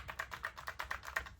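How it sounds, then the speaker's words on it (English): Rapid typing on a computer keyboard at a desk setup, a steady run of light, evenly spaced key clicks close to the microphone with no voices. "and you see I'm typing"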